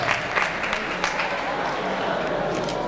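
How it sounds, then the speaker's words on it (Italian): A crowd applauds the junior women's podium at a cyclocross award ceremony in Vittorio Veneto, a continuous wash of clapping under a busy outdoor murmur of voices. "E vi prendete l'applauso di tutto il Veneto."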